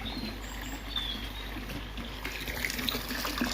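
Water pours steadily into a koi pond being filled, a continuous close splashing trickle with faint birdsong in the background.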